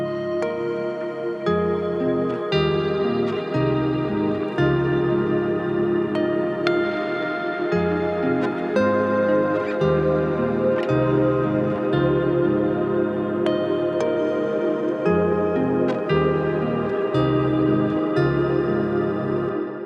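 A sustained guitar chorus part run through a stereo ping pong delay with an added octave-down layer rings out in an even, dense wash, with rhythmic low-end pulses beneath it throughout.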